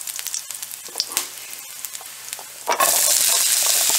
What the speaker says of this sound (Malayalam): ജസ്റ്റ് ഒന്ന് ഇത് നന്നായി ഒന്ന് വഴറ്റി കൊടുക്കാം.